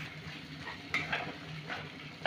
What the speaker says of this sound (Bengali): মশলাগুলোকে আমি ভালো করে একটু কষে নেব।